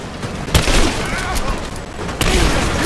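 Gunfire in Rise of the Tomb Raider rattles in a dense, continuous barrage with two sharp, loud blasts standing out, while a voice speaks over the shooting.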